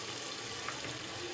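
Spinach chicken masala sizzles in a pot as eggplant is added. A steady, soft frying hiss runs throughout, faint and even, with no voices.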